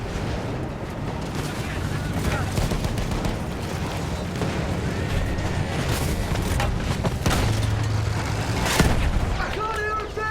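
Gunfire cracks and booms amid a chaotic battle din, with sharp repeated reports and heavy low rumbling over constant noise, while voices shout in the middle of it.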